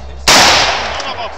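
A single loud, sharp gunshot cracks at close range and rings out into a decaying echo, part of a group shooting session.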